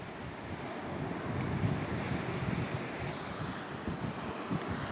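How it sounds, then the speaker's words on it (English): Ocean surf crashes over rocks on a bright beach, a continuous roaring wash of waves mixed with gusting wind buffeting the microphone, steady and fairly loud with no voices. "we get some more shots of the waves crashing over the rocks over there"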